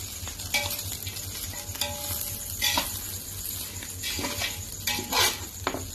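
A spatula stirs food sizzling in a frying pan with ground pepper added, making bursts of scraping and clattering over a steady close hiss.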